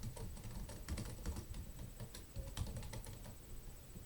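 Typing on a computer keyboard while entering a name into a web form input field, a steady run of light, rapid key clicks with uneven rhythm, close and fairly quiet, with no talking.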